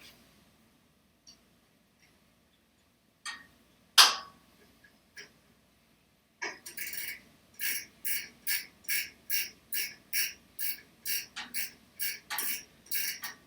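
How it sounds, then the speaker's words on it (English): A 3/8 combination wrench tightening a nylock nut on a sprint car simulator throttle assembly. A few scattered metallic clicks and a sharp knock come first, then a steady series of about a dozen crisp, evenly timed clicks, close and clear. "this is going to be a 3/8 combo wrench that we're going to need to get this tightened up"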